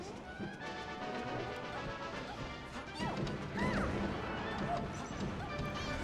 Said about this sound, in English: I like how disruptive those down smashes are by Kellner